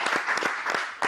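An audience claps loudly at a freestyle rap event in a short, dense burst of applause.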